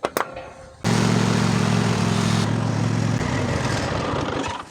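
Kohler 7000 lawn tractor engine, just after an oil change, cranks briefly and fires, then settles into a loud, steady idle close by, with the pitch shifting slightly partway through.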